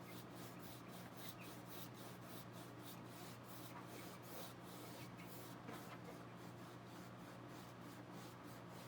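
Paintbrush stroked with the whole brush rather than the tip across a painting surface, a soft, steady rubbing swish that repeats in even passes over faint room hum, with no voices.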